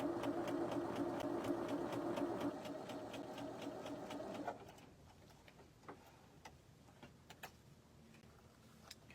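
A sewing machine stitches a quilt block in a fast, steady mechanical run for about four seconds, then stops, leaving quiet scattered ticks and handling noises.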